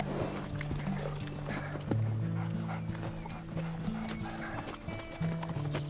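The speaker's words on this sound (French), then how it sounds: "Tu sais, Baldi, ces 2 chevaux courent comme le vent." Horses galloping, hooves clip-clopping in a steady rhythm under a sustained tonal music bed, with a brief whinny-like sound near the start; no voices.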